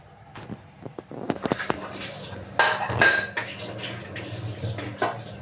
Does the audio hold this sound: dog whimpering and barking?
no